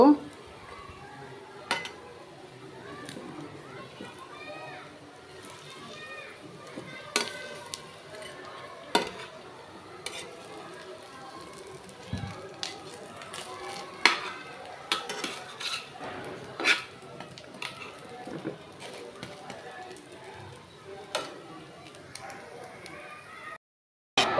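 Rotis frying in a pan at home, with scattered clinks and scrapes of a utensil against cookware and a soft sizzle underneath, close and moderate, continuing throughout.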